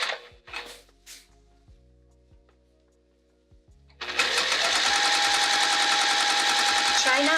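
A sewing machine bastes a long pillowcase, first in a few slow single stitches, then running fast and loud in a steady, rapid mechanical rattle for the last few seconds, close by.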